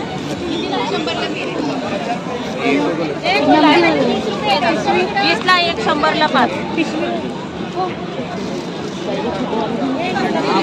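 Dense crowd chatter at the Aagari Mahotsav 2023 festival in Dombivli, a steady near babble of many overlapping voices with a few louder nearby speakers standing out throughout.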